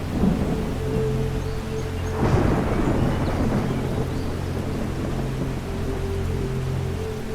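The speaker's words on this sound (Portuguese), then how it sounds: "Um estrondo alto ecoou no ar. E de repente, a chuva começou a cair muito forte." Heavy rain pours steadily while a deep roll of thunder rumbles through the middle, low and sustained beneath the downpour.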